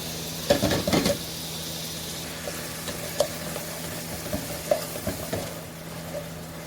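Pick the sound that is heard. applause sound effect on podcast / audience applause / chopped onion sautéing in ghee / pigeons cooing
chopped onion sautéing in ghee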